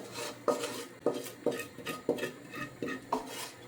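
Noodles tipped into a pan and stirred, giving a run of about seven rhythmic scraping clinks of a utensil against the pan, close and fairly loud with no talking.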